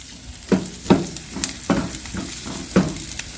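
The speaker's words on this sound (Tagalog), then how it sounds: "Yan, gisa-gisa lang po." Food sizzles in a hot pan while being sautéed, with sharp bursts of frying as ingredients are stirred and tossed every half second or so, close and alone.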